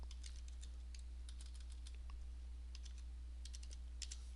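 Typing on a computer keyboard while working in MS Word, a fast, steady run of close, crisp key clicks over a constant low hum.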